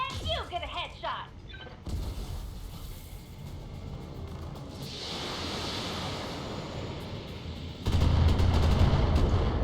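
Heavy mech weapons fire in Battletech, loud booming blasts and rumbling explosions with a sharp crackle of shots, sustained and swelling again near the end, while a voice talks over the combat.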